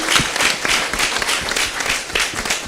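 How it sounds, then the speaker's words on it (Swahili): A church congregation at a Sunday service claps for a girl who wrote her own poem, a brief burst of loud, dense applause from many hands filling the room. "Tumpigeni makofi"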